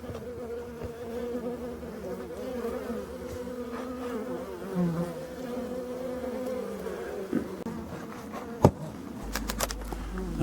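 Honeybees at a winter hive hum in a steady, close drone with several overlapping pitches, continuous throughout, with a few soft knocks and no talking.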